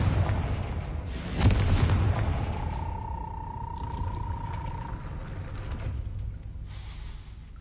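Confringo blasting spell in a Hogwarts video game: a heavy booming blast about a second in, then a long sustained tonal hum, ending in a softer whooshing burst.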